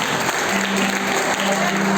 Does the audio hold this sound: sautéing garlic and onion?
no